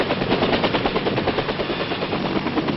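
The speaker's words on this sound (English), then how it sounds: "Assault helicopters arrive in their pre-designated pickup zones." Vietnam-era 1st Cavalry Division assault helicopters arrive at a pickup zone with dense, continuous rotor chop and engine roar. The sound is loud, rough and rapid, with no gaps.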